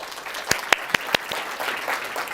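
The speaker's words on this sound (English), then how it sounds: "Big round of applause." A few sharp, separate hand claps ring out in a lecture room after a volunteer's juggling demonstration, over a faint murmur of background noise.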